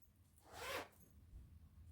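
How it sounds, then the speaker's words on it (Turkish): The zipper of a fleece cardigan is handled during sewing, giving one quiet, quick zip lasting about half a second against a soft background. "Yakamızı bu şekilde fermuarı çeviriyoruz ve şuradan yakamızı dikiyoruz arkadaşlar."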